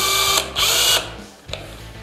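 A power screwdriver with a small PH1 Phillips bit drives a screw while a plaster tub is being set up for scaffolding work. Two close, loud whirring bursts are followed by a short, sharp final buzz.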